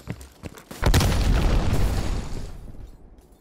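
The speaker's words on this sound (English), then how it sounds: "Threw a grenade at me." A grenade detonates in the Call of Duty Black Ops Cold War video game: a few small pops, then a heavy booming blast that rumbles and fades over about two seconds.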